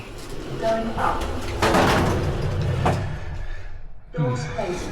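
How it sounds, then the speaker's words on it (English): Lift doors slide shut with a rumbling, rattling rush that builds and then stops with a soft thud, followed by a quiet pause, and a voice starts again at the end. "Doors closing."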